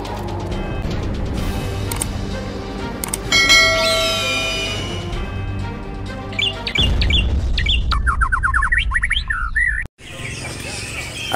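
Songbirds for sale at a bird market kiosk, including golden leafbirds, chirp and whistle in busy overlapping bursts that carry through the whole stretch, with bell-like tones and background market noise.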